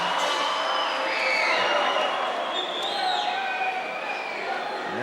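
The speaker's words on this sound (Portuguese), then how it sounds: "Ouça aí a torcida de Coari aqui com o Francisco de Assis" Coari fans roar and cheer steadily at a combat sports event in a large venue, a dense crowd noise with whistles and shouts rising and falling throughout.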